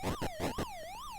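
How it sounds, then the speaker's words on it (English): A police car siren from the Atari 2600 game Alien wails in rising and falling electronic tones, loud and alone, with a few choppy bursts at the start. "It sounds like there's a police car going past. I don't think that's outside, I think that's in the game."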